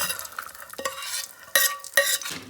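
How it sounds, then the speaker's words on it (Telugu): Fox nuts (makhana) frying in a pan until crisp, with close stirring scrapes and light metallic clinks over a gentle sizzle, a few louder strokes near the end. "ये भी थोड़ा क्रिस्पी होने तक फ्राई करना"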